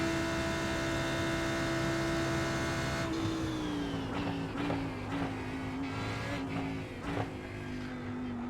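A race car engine in a racing simulator game, a USF 2000 or IndyPro open-wheeler, holds a steady high drone, then pitches down through repeated gear changes and braking, loud and continuous with no talk.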